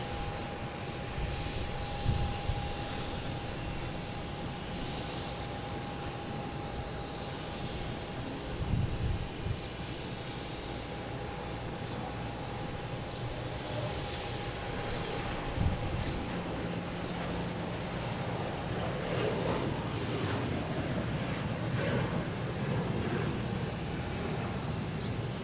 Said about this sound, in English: we got a Delta heading to LaGuardia in E175